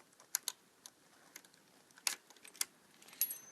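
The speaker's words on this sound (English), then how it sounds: "Let's get these keys back out." Aftermarket keys for a 2010 Triumph Daytona 675 SE motorcycle jingle and tap in scattered bright clicks and small clinks, close but fairly quiet, with no speech.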